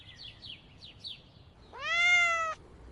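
A cat gives a drawn-out, fairly loud meow after a few faint chirpy squeaks, set against a low background hiss.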